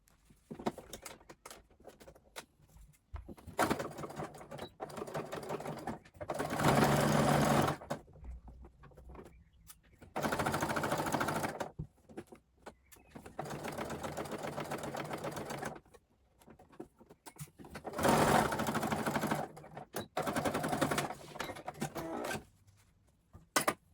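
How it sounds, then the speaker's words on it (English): A sewing machine runs in several separate bursts while top stitching bias binding along a bound (Hong Kong) seam finish. The steady mechanical whir stops and starts again, with quiet pauses between the runs and no talking. "I'm going to go ahead and top stitch the bias binding on this side."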